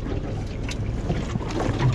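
A fishing boat's engine idles with a steady low rumble and drone, close and continuous, mixed with wind buffeting the microphone, no voices.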